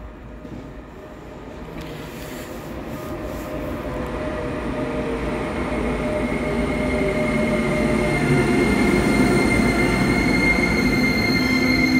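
A train pulls in at platform 2 of Košice station, a loud, steady rumble of wheels and rolling cars that builds over time, with squealing wheel tones running through it.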